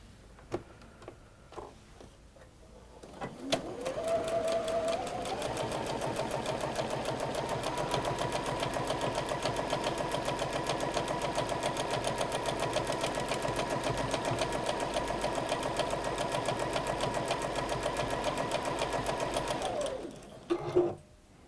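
A sewing machine stitches quilting lines across layered quilt fabric, running steadily and close for nearly the whole stretch after a brief start, its fast even whir and needle ticking holding without pause until it stops near the end.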